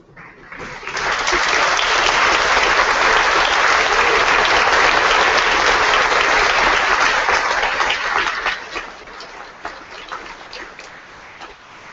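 Graduates at a University of Guelph convocation stand and applaud, a dense, loud roar of clapping from a large crowd sustained for several seconds before gradually thinning out.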